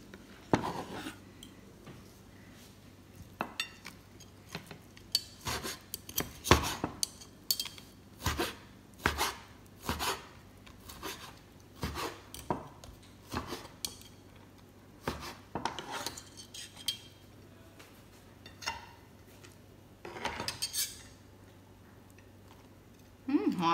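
A knife slices mushrooms into thin pieces on a cutting board, a steady run of short, moderately close taps and chops with small pauses, while someone talks at intervals.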